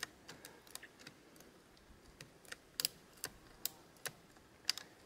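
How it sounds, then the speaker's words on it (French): Ratchet clicks from a Shimano RSX bicycle shift lever after lubrication, sounding as a series of sharp, sparse, irregular ticks over a quiet background, close and fairly faint. "On entend le cliquet qui revient quand même"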